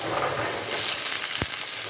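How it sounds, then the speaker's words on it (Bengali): Potatoes and green chilli fry in hot oil, a steady close sizzle with a brief louder burst near the end, no voices over it. "ওই তেলের মধ্যেই এখন আমি কাঁচা লঙ্কাটা দিয়ে দেবো হ্যাঁ আলুগুলো প্রথমে এটার মধ্যে দিয়ে"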